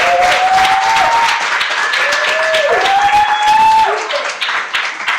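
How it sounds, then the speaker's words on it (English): Loud, sustained applause from a symposium audience fills the whole stretch, with a few whistles rising above the clapping before it starts to taper. "Let's give them a round of applause, please."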